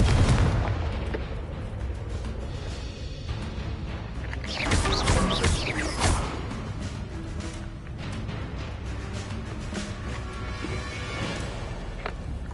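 Confringo fire spell explosion in a Harry Potter-style video game, loud booming blasts with a big burst near the middle, set within a continuous rumbling, crackling battle soundscape.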